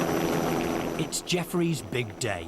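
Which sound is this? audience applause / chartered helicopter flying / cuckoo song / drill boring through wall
chartered helicopter flying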